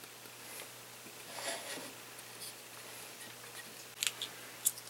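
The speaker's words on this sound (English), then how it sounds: "I think I'll snip them off first and then examine them." Small cutters snipping soldered wire leads off a Williams pinball score display board, a few sharp close clicks near the end over a faint quiet background.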